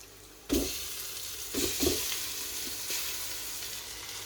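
Chilled biryani marinade poured into a hot pan bursts into loud sizzling frying, with a second surge of hissing and a few stirring scrapes, close up with no talk.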